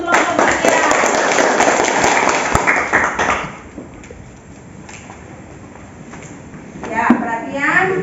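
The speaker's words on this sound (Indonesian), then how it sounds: "kita berikan aplaus untuk kelompok 3" A classroom full of students gives applause to a group for their work, with dense clapping for about three seconds before it fades into quieter room noise and children's voices.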